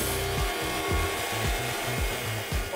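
A Wood-Mizer LT15 sawmill cuts through oak at a customer demonstration day, giving a steady rasping saw drone with repeated low thumping strokes, close and continuous, with no talking.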